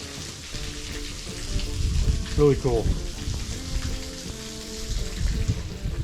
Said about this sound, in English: You got a waterfall inside.